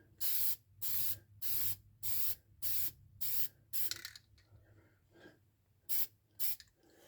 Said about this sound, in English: a couple quick sprays